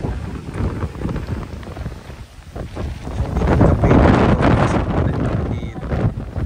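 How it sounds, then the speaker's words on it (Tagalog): Heavy rain pours steadily at a campsite with gusting wind buffeting the microphone, swelling louder midway; a low rumble sits underneath. "Ulan."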